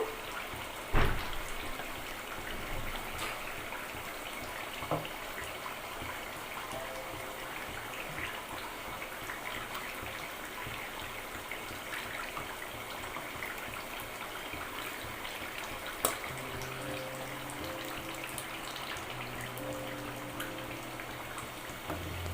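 Water poured into a pan of mutton curry, a steady watery gush and trickle running throughout with a few sharper splashes near the start, moderately loud and close.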